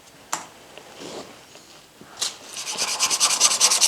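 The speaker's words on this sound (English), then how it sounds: "I will need more time to sand it, but I have a better control over sanding." Hand sanding a 1949 American steel screwdriver head with 240 grit sandpaper: a few isolated scrapes, then a quickening run of rhythmic rubbing strokes, close and fairly quiet.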